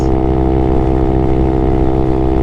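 A Honda Grom motorcycle engine on a motorway, a loud, steady, close buzzing drone with no breaks.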